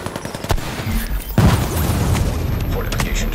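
Video game gunfire around a fortification under attack: sharp shots and a heavy boom, followed by a dense rumble of sustained fire, with a voice speaking over the action.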